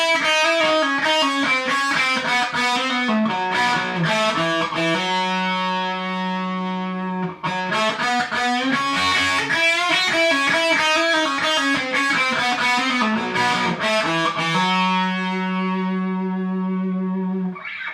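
A distorted electric guitar plays a rock blues lick slowly, with sustained bends and held notes, repeated twice on its own without talking.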